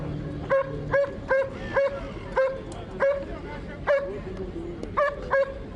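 Fierce-looking police dogs bark in a series of sharp, repeated bow-wows at a steady, uneven rhythm, fairly close and loud over a low background hum of a security deployment.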